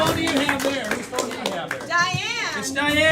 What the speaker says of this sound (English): Clap for Diane.